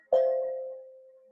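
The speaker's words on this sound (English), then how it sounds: "when you hear the sound of the gong" A gong struck once during a guided breathing meditation session, a single clear metallic tone that blooms quickly and rings out steadily, fading slowly over more than a second with no voices.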